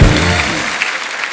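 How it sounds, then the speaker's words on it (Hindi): Dense, steady applause from a TV comedy show studio audience fills the whole short stretch, loud and continuous without pause. "एक बार जोरदार तालियां हमारी ऑडियंस के लिए"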